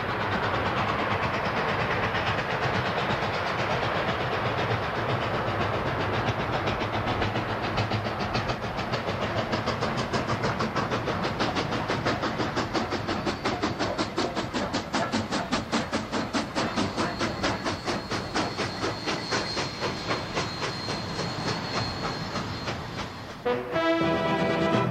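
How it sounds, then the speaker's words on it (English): Southern Pacific Daylight Express steam locomotive and train running, a loud continuous rumble with rapid rhythmic clatter building in the middle, steady and close throughout before cutting off near the end. "an adventure story about a steam engine"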